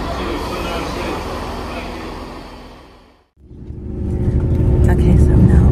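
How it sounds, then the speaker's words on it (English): Steady low rumble of a moving passenger train heard from inside a carriage, loud and continuous, dipping briefly to near quiet before the rolling noise builds back up stronger. "Okay, so I'm now on the train."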